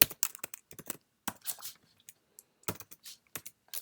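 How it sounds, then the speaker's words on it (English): Typing on a computer keyboard, heard up close as quick, irregular bursts of crisp key clicks with short pauses, clear and alone with no voices. "So we're going to type in include,"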